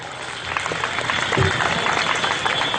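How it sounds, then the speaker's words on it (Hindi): An audience at a speech competition in Mau claps after a speaker finishes, a dense, sustained wash of applause with some crowd noise mixed in. "यकीनन इनके हौसले को देखकर आपकी तालियां कम पड़ रही हैं"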